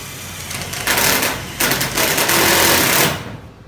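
A power drill bores a 2-inch hole through a wall to route the cord for an Amantii electric fireplace. It makes a loud, close, grinding whir in two surges that cuts off sharply, with no talking.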